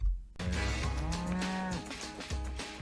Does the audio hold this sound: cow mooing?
yes